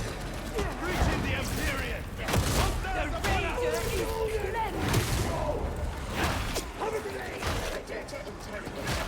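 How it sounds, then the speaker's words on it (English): Gunfire in Warhammer 40,000: Darktide rattles on almost without a break, mixed with whooshes and combat noise in a dense battle, while a player talks over it. "This guy's not stopped shooting."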